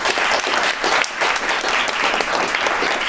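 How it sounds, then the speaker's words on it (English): An audience at a food-focused seminar panel claps for the panelists, a loud, even wash of many hands that runs unbroken throughout. "Can we just say a big round of applause? Say thank you to all the panelists."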